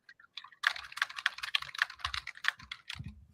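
Rapid typing on a computer keyboard, a quick irregular run of crisp clicking keystrokes heard close and alone, with some heavier thuds near the end.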